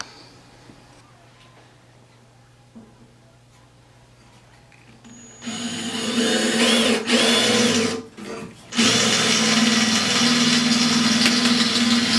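A power drill bites into a metal ammo can, starting after a quiet stretch as a loud, steady high whine with a brief stall midway before running on, close up.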